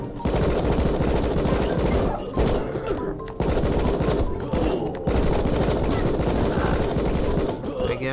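Rapid gunfire in the video game Rocketbirds, loud sustained bursts of automatic shots with brief gaps between volleys.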